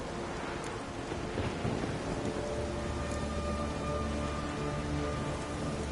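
Steady, dense rainfall from a storm in The Witcher 3, a continuous broadband wash with low rumbling underneath, holding at an even level throughout with no voices.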